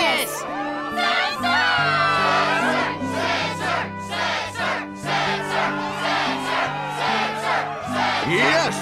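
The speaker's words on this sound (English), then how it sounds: "Yes, the crowd is fired up" Excited crowd in Kingdom Hearts 2 cheering and chanting in rhythmic bursts, loud and continuous over a music backing.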